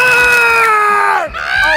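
A girls basketball coach lets out a long, loud, sustained scream from the sideline that sweeps downward and breaks off, then rises again, with crowd noise underneath.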